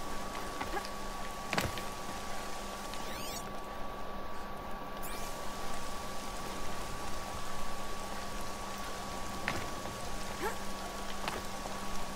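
Steady rainfall in the video game Horizon Zero Dawn, a dense, even hiss of drops on surfaces holding throughout with a few sharper taps and no talk.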